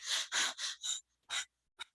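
A human voice imitates rapid, short panting breaths, the shallow fast breathing of tachypnea seen with blood loss. About six quick, sharp gasping puffs come with brief gaps between them, close and alone.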